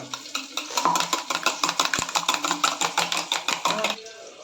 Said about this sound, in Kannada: ತಿಕ್ಕಲ ಅಕ್ಕ ಸ್ಪೂನ್ ದೆತ್ತಂದು ಇತ್ತೆ ಮಿಕ್ಸ್ ಮನ್ಪುಗ